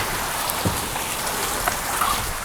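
Steady, dense monsoon rain pouring down on a goat farm, a constant hiss with scattered drops and splashes standing out, no voices.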